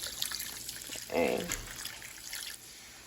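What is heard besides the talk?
water poured from a coffee mug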